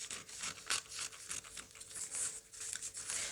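Scissors cut through fabric for a wrap crop top, giving a run of short, crisp snipping and rustling strokes that come close and fairly loud, with no talking.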